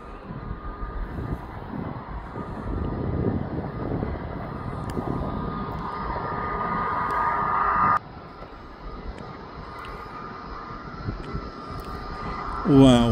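An easyJet airliner passes near Birmingham Airport with a loud, steady broadband engine roar that swells and holds. Faint voices sit underneath it.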